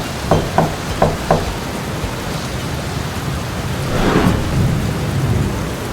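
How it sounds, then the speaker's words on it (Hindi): Heavy nighttime rain pours steadily on surfaces while a few sharp thunder cracks strike early and a longer rolling rumble swells later, loud and close with no voices. "एक रात को बहुत ज्यादा बारिश हो रही थी।"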